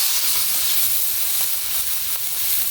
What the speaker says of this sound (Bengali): এই যে তেলের মধ্যে একটু আদা দিয়ে দিলাম